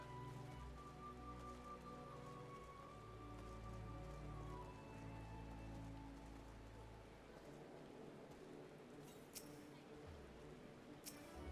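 Steady rainfall inside a video game, a soft continuous hiss of drops on surfaces running throughout at moderate level, with game music tones and occasional faint clinks layered over it.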